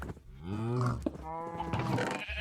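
Cow lowing in the blocky survival game Stoneblock 4, a drawn-out tonal moo with a rising then falling pitch, close and fairly loud, followed by a second shorter bellow and faint farm-animal calls in the background.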